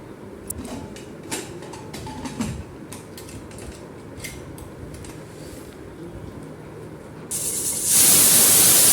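A pressure cooker steams sweet stuffed modak dumplings, a low steady bubbling rumble giving way near the end to a sudden, loud, sustained hissing whistle of escaping steam.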